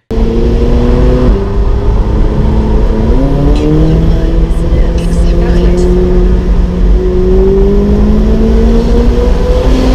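McLaren 720S sports car engine revving steadily at close range, its pitch rising and falling through gear changes over a continuous loud drone, with faint talk in the background.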